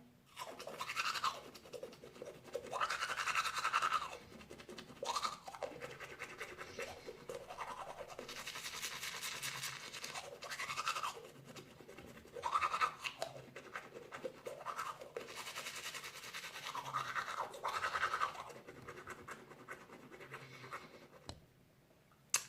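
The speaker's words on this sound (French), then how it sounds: "je vais mettre mon dentifrice habituel et je vais me brosser les dents" Teeth are brushed with a toothbrush and toothpaste in close, rhythmic bursts of scratchy scrubbing, with a few short pauses between strokes and nothing else heard.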